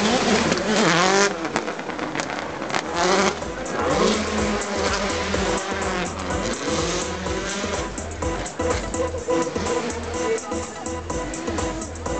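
A Citroen C4 WRC rally car engine roaring close and loud, revving hard in bursts with a dense, gritty growl throughout.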